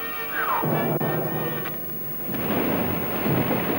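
A thunderstorm at sea in a 1959 animated film: a loud rumbling thunder crack rolls over a steady hiss of heavy rain, all within a few seconds.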